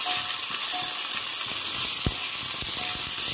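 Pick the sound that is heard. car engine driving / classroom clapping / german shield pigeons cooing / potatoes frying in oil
potatoes frying in oil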